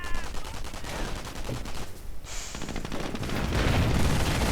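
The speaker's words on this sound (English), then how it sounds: "we are seeing artillery getting called in" Dense gunfire and artillery from a WWII real-time strategy battle, with continuous overlapping shots, machine-gun bursts and rumbling impacts that grow louder and thicker toward the end.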